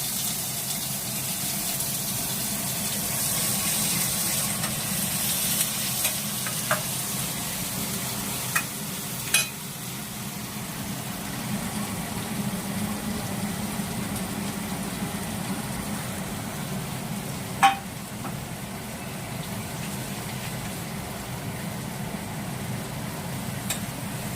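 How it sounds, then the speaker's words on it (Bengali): Onions and whole spices fry in hot oil for mutton kasa, a soft continuous sizzle and hiss held close and even throughout, broken by a few faint clicks of a utensil against the pan, with no talking. "পেঁয়াজটা আমার এখন কিছুক্ষণ একটু ভাজা হবে।"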